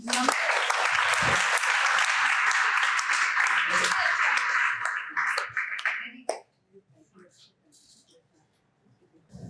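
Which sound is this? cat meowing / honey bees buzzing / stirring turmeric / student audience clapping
student audience clapping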